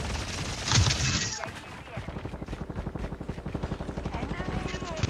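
Helicopter rotor thump and rapid bursts of gunfire in a video game firefight, loud and sustained with a dense rhythmic chatter, mixed under players talking.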